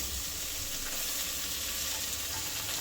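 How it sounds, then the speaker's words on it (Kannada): Mixed vegetables sizzle in a hot pan, a steady, dense frying hiss that holds evenly throughout with faint stirring underneath. "ಇದಕ್ಕೆ ನಾನು ವೆಜಿಟೇಬಲ್ಸ್ನ ಹಾಕೋತಾ ಇದ್ದೀನಿ"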